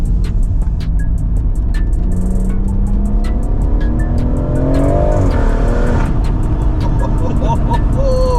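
A BMW M140i engine pulls hard in second gear after a downshift, a loud rising rev heard from inside the car with a ticking indicator-like click and someone talking over it.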